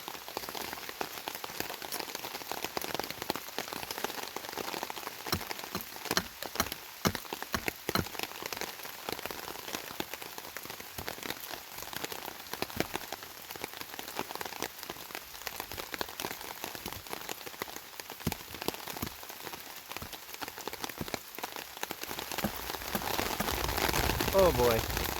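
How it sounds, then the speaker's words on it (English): Heavy rain falls steadily on a forest hammock campsite in the Catskills in autumn, a dense close patter of drops on tarp and leaves that swells louder toward the end. "That rain's coming down"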